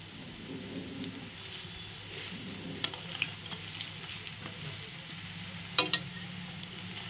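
Papaya fritters fry in hot oil with a steady crackling sizzle, broken by a few louder pops and clatters from turning them over, heard close and alone.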